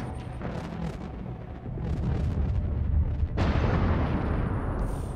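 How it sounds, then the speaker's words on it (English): A capital ship explodes in the space strategy game Endless Space 2: loud, sustained rumbling booms with a sharp, bright blast near the middle, followed by heavy crackling debris that stays loud to the end. "Get clear of that explosion."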